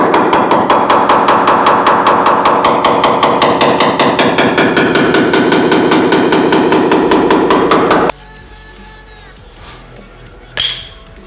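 Rapid, evenly spaced hammer taps ring out as the edge of a dented car body panel is massaged during a DIY repair, a loud metallic series for several seconds that stops abruptly, followed by a quiet pause and one faint knock.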